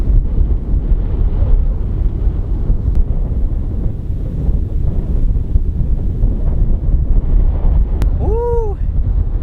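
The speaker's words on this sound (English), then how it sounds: "Windy enough?" Strong wind roars steadily around a truck camper in a storm, a dense continuous rush with gusty low rumble throughout, and a brief whistling tone near the end.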